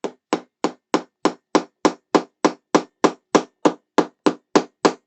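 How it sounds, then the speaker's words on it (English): A hammer taps a metal pin into a World of Warcraft Lich King model, sixteen sharp, evenly spaced blows in a steady rhythm, close and clear with no talking. "using my hammer here is going to help me do that"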